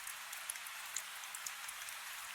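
Steady light rain patters softly on a surface, a faint, even hiss with scattered small drops and no voices.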